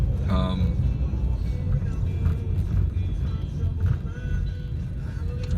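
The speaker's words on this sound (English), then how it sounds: "Okay, that truck is not making that turn well." A truck swings through a turn at a road intersection, its engine rumbling steadily alongside passing traffic noise throughout, with a person talking over it.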